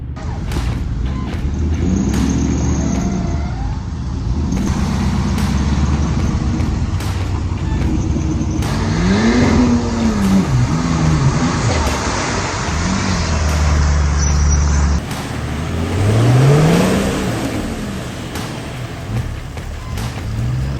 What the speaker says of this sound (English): Their truck has more than enough power, but the smaller tyres weren't getting through that thick mud easily.